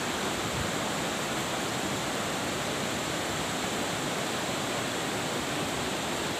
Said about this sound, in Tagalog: Kung narinig nyo, mga katukad, yung agas-as, yan, ilog yan.